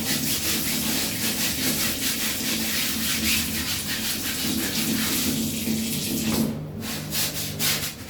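Laundry washed by hand in a bathroom, steady rhythmic scrubbing and rubbing of wet cloth close by with running water beneath, continuous and fairly loud, no talking.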